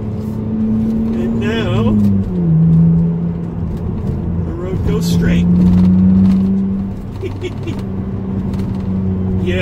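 A BMW E85 Z4 roadster drives along steadily, its engine droning loud and close with pitch rising and easing as it shifts and lifts, while someone talks over it throughout.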